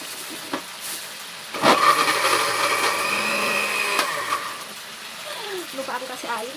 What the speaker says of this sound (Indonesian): Aku mau blender dulu bumbu yang tadi